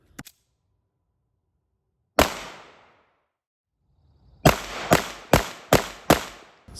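Staccato C2 2011-style pistol fired on a range: one early shot, a single sharp report, then a rapid string of five loud close shots with short ringing decays.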